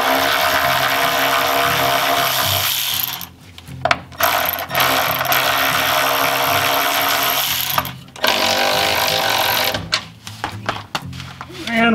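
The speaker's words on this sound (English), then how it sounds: "we're gonna unbolt the transmission mount" A ratchet unbolts Jeep transmission mount bolts in loud, close, whirring bursts separated by short pauses under the vehicle.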